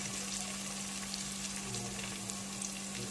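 Ginger paste sizzles in hot tempering oil in a pan, a steady close hiss and crackle that holds throughout without talk, with a faint low hum underneath.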